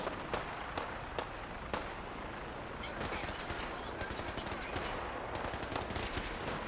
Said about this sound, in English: there's an artillery bombardment inbound